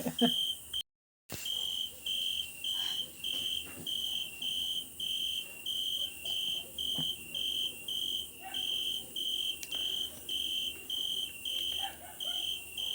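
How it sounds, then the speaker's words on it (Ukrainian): Cicadas sing steadily outdoors on a warm evening, a loud, continuous high-pitched buzz pulsing in regular bursts about once a second. A brief dropout interrupts it near the start. "Дуже люблю, як цикади співають так похоже, як і сюрчки, тільки ще громче."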